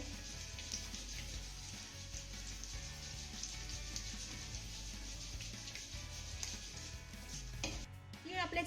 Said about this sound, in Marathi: आता हे तीळ आपल्याला चांगले परतून घ्यायचे आहे